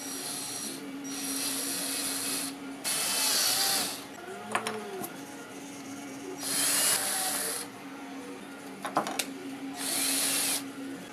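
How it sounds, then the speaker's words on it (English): A power drill fitted with a 4mm bit bores holes in a 3D-printed guitar capo, running in several separate bursts of a few seconds each, with quieter handling and rasping between them. "drill out these holes with a 4mm drill bit"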